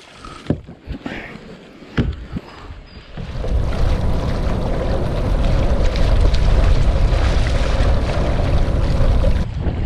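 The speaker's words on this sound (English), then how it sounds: "Man, this wind is getting gnarly out here." Strong wind buffets a fishing boat on a lake, starting with a few scattered knocks and bumps before a loud, steady roar of wind noise across the microphone takes over for most of the stretch.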